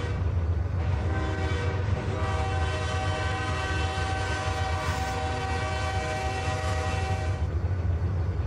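A freight train bound for a rail yard in Petersburg, Virginia sounds a loud, sustained multi-tone horn over continuous rumbling rail and wheel noise, steady throughout with no talking.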